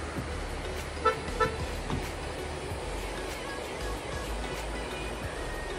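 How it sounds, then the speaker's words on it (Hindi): The Kameng river rushes near Bhalukpong, Assam, a steady broad roar of flowing water heard close, with a couple of brief vehicle horn toots early on and no talking. "नदी की आवाज़ आ रही होगी आपको इसमें"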